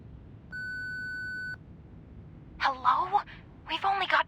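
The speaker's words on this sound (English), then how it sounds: "Please leave a message after the beep." A single steady answering machine beep lasting about a second, clean and electronic, in the video game Reverse 1999, followed by a voice speaking.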